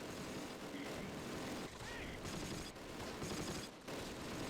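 Infantry gun firing during a Close Combat battle, dense distant gunfire and booms under a steady wash of battle noise, with speech over parts of it.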